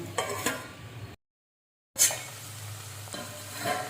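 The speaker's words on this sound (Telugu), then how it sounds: "మధ్య మధ్యలో కలుపుకుంటూ ఇలా మగ్గించుకోవాలండి." Capsicum and tomato curry is stirred in a pan as it cooks, with soft close scraping and light sizzling interrupted by a short silent gap.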